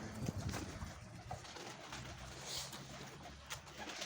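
A pigeon coos softly in the distance against a low outdoor background hum, brief faint cooing notes without speech.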